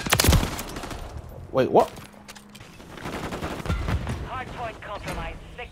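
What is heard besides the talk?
gunfire in video game Call of Duty Modern Warfare 3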